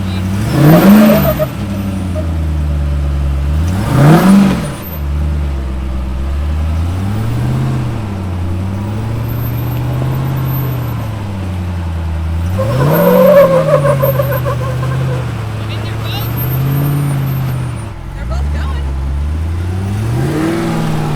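A Jeep engine revs loudly and repeatedly while driving through sand dunes, with only the front locker engaged. It surges in waves, with rising and falling pitch and occasional sharp peaks, close and steady throughout.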